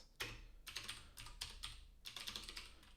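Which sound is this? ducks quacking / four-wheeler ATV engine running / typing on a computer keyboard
typing on a computer keyboard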